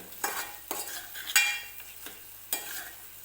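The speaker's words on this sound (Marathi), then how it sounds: "या मसाल्याला तेल सुटेपर्यंत हा मसाला तेलामध्ये असंच परतून घ्यायचा आहे" A garlic-laden masala paste is stir-fried in oil, with a spatula scraping through the pan in several distinct strokes over a soft, steady sizzle, close and clear with no voices.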